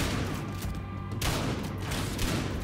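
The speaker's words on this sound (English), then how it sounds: "that shotgun definitely pays dividends to have" Shotgun fire in the Battlefield Hardline video game, heavy loud booming blasts that overlap into a dense rumble, with a sharp burst about midway through amid busy combat noise.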